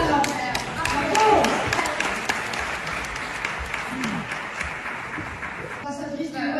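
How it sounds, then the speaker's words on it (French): An audience at an international Francophone diaspora summit applauds Sarah with steady, dense clapping that fills the room throughout, mixed with some voices and crowd murmur. "on va l'applaudir alors. Bravo"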